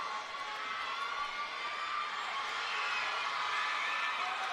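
Crowd in the City of Passi Arena at a basketball qualifier final, fans of Buenavista cheering and shouting in a continuous, reverberant roar with high children's voices and whoops, steady and fairly distant.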